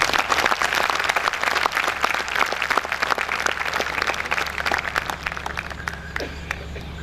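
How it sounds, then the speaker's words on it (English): A convocation crowd applauds the graduates' parents, a loud, sustained round of clapping from a large hall that slowly thins and fades out toward the end of about seven seconds. "So give them a round of applause."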